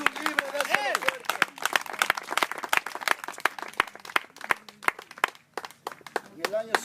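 A church congregation claps at a camp service in steady, crisp, rhythmic beats, with a voice carrying over the clapping throughout.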